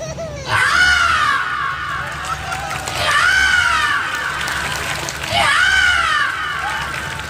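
A man imitates a peacock call with his voice, three loud, piercing, rising-and-falling wails spaced a couple of seconds apart, delivered close up.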